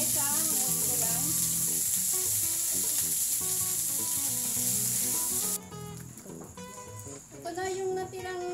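Garlic and onion sizzle as they sauté in oil for chicken humba, a steady loud hiss that runs without a break. Music plays over it throughout, and it shifts partway through.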